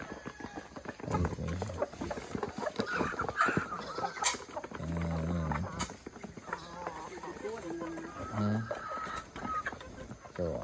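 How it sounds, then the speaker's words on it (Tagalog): Pet chickens cluck around a feeding spot, their calls scattered and fairly close amid busy farmyard noise, with people talking over them at times. "Pakain siya ng aking mga alagang manok."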